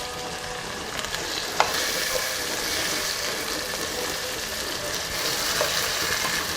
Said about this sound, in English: I'm going to saute the spinach.